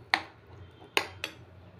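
Lentil batter with turmeric and salt mixed in a bowl, heard as three sharp utensil clinks against the bowl at irregular intervals over a quiet background.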